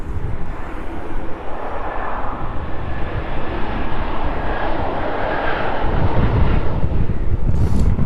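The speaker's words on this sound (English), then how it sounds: "Ryanair then extending its rollout just a little further." A Ryanair airliner on its landing rollout at East Midlands Airport gives a steady, loud engine roar that builds slightly toward the end, with wind buffeting the microphone throughout.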